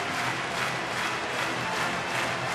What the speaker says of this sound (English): now the crowd is in it. Very loud here at Miller Park.